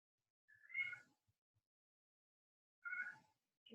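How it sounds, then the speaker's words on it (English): A pet cat meows to be let back indoors, two clear separate meows a couple of seconds apart and a third starting at the end, faint and alone in a quiet room. "My kitty trying to call my name."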